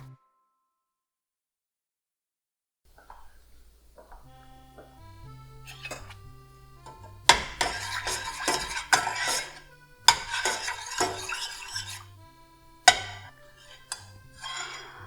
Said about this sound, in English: I'll just measure half a cup of raw cacao powder.